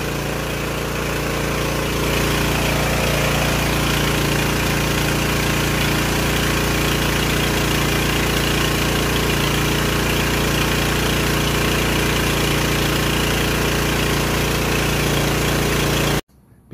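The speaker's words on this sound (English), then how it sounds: "The generator is now ready to run on LPG" A 48 V DC generator's engine, set up to run on LPG, idles loud and steady at close range. The rumble stays constant for about sixteen seconds, then cuts off abruptly.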